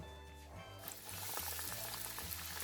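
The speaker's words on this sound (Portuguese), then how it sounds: "E agora eu vou fritar." Pastel pastry dropped into hot oil for crispy frying, a steady, dense crackling sizzle that jumps up loud after a brief quieter moment and then keeps bubbling continuously, close by with no talking.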